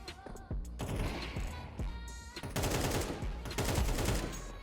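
Gunfire from Counter-Strike 2 rattles in rapid bursts of automatic shots, with some single cracks in between. It is dense and continuous at moderate volume throughout.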